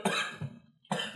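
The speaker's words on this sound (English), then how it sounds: "we're pausing for a cough." Two harsh, close coughs come one after another, separated by a brief silent gap, each loud and raspy with no talking around them.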